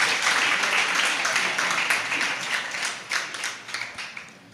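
An audience applauding at a Jain religious discourse, a steady wash of many hands clapping that thins into scattered claps toward the end, fairly loud and without any speech.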